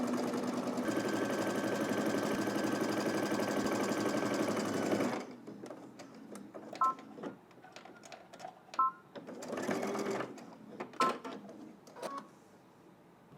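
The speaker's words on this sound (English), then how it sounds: "we're going to head to the machine and stitch all the way around using 5/8 of an inch seam allowance" A sewing machine stitches a 5/8-inch seam in one long, steady run of about five seconds, followed by quiet clicks, beeps from the machine and brief short bursts of stitching.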